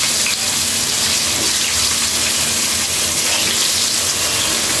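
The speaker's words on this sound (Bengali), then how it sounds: "এখন আলু দিয়ে দিচ্ছি। আলুগুলো হালকা একটু ফ্রাই করে দিচ্ছি।" Potatoes fry lightly in a pan alongside fish, a loud, dense, continuous sizzle with no voices.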